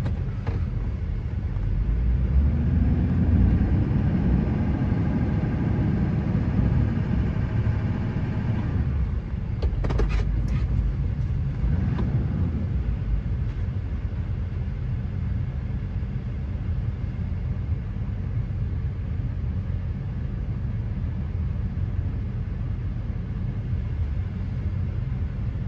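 A 2004 Chevrolet Silverado 2500HD pickup with the 6.6L diesel engine rumbles steadily while being power braked, a loud continuous low drone that swells early on, with a short sharp noise around the middle.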